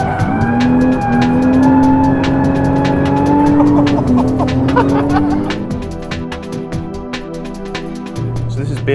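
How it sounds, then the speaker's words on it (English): A BMW 1 Series M coupe drifts sideways, its engine holding a loud, sustained note under squealing tyres for several seconds. The sound then drops away into a quieter rumble. "So this is BMW's new 1 Series M, or 1M for short."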